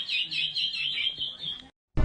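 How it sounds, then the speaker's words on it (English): Birds chirp in the early morning in a quick, steady run of bright tweets, fairly close and alone, before a brief silence and a sudden burst of louder noise at the very end. "Birds early in the morning."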